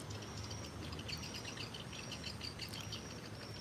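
Birds chirp and call at the edge of rice paddies in Kuningan, West Java, in the late afternoon, with repeated high calls over a steady bed of insect and cricket noise and no talking.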